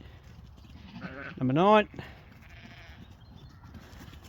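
Early lambing ewe on a farm gives a single loud, wavering bleat close by, about half a second long, between bits of a man's speech.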